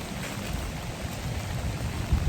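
Rain falling across a lush cemetery, a steady wide patter and hiss with soft drips, continuous and moderately loud, with a low rumble swelling toward the end and no speech.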